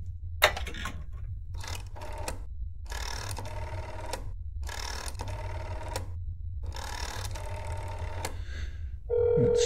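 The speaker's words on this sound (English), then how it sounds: "I'm going to phone anyway just to make sure he's not home." A telephone in the video game That Is Not My Neighbor is dialed and rings, giving a run of regular ringing bursts with pauses between them, clear and close, followed by a short electronic tone at the end.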